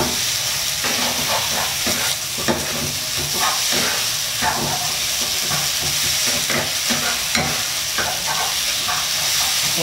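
Pad see ew rice noodles with pork stir-fried in a wok over high heat, a steady loud sizzle and hiss with repeated scraping clatters of the spatula throughout, no talking.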